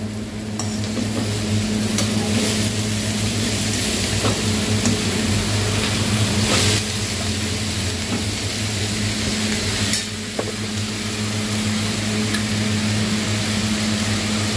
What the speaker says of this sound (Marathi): यात मी घालून घेणार आहे हा तयार पालक। थोडं झालं की हलवून घ्यायचं।